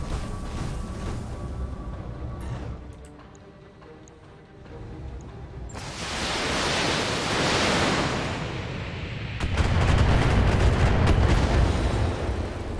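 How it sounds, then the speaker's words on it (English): Mech weapons fire in the Battletech video game as a turret is destroyed, a dense roaring rumble of blasts and explosions that swells, eases off, then surges louder again toward the end. "And then Decker can probably move up and shoot up the last turret"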